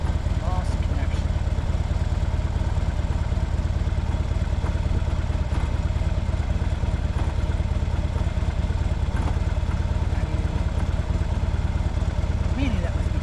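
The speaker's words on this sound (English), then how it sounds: "Mainly that was because I restarted the motorcycle. Let's hear how it sounds." A motorcycle fitted with a Vance & Hines exhaust runs close by at a steady idle, its loud, low, even engine drone continuing unbroken.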